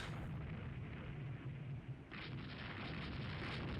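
Light naval guns firing during a fleet battle in the Rule the Waves 3 naval game, a continuous rumbling barrage of distant booms and blasts, fairly faint and unbroken, with no talking.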